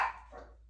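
A single short dog bark, fairly faint and somewhat distant, fades quickly into a quiet room.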